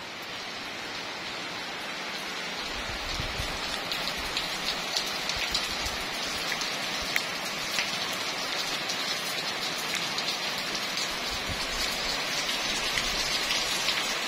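Heavy rain pours steadily during Eid al-Fitr in Ponorogo, a dense, continuous hiss of drops hitting surfaces that stays loud and even throughout, with no voices.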